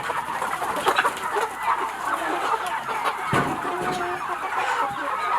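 Many hens cluck and chatter together on a poultry farm, a steady busy flock with occasional louder squawks, heard close and without talk.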